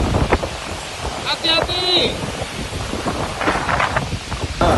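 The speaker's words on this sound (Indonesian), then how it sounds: "hujan disertai angin cukup kencang" Strong wind whips with heavy rain at a shopping center in Bogor, producing loud, buffeting gusts and a constant roar across the clip, while a person calls out a short warning over the storm.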